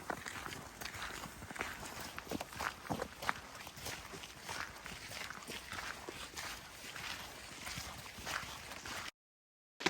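Footsteps crunching through Cannock Chase forest at night, an irregular series of close steps over rough ground with a few louder scuffs, ending abruptly in silence.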